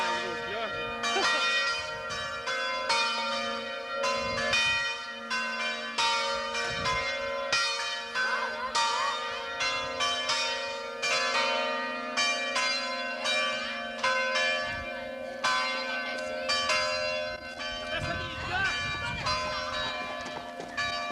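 Loud, steady pealing of a large church bell at a baptism, overlapping strikes ringing on without pause while people talk faintly in the background.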